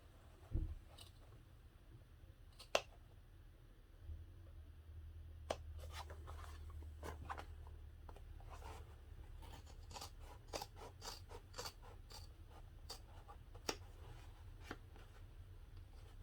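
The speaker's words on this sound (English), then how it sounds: "So I'm just cutting right up the center until I get about 1/2 inch away from one short end" Scissors snip through fabric while sewing a parachute knapsack, cutting up the center toward a short end, with a run of quiet, close, crisp blade snips and light rustling spread irregularly throughout, no voices.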